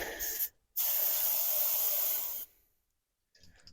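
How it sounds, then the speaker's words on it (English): A compressed air can sprays onto car parts in two loud, steady hissing bursts, a short one then a longer one of about two seconds, followed by faint handling clatter. "The only other thing I've seen is compressed air, so we're gonna give this a run through here."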